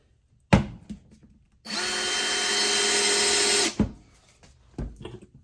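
Milwaukee screwdriver driving wood screws into a wooden bench: one steady, close motor whine lasting about two seconds, framed by short knocks and handling clicks before and after.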